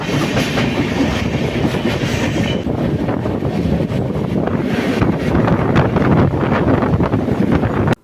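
The Udayan Express passenger train rolls along shortly after leaving Mumbai CSMT. A loud, steady rumble with rhythmic clickety-clack of wheels on rail joints is heard under constant wind buffeting from inside the moving coach.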